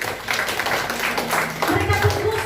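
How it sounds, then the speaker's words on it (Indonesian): Congregation clapping during a women's church service, a dense patter of hands mixed with voices, with someone talking over the applause near the end. "Tepuk tangan dulu."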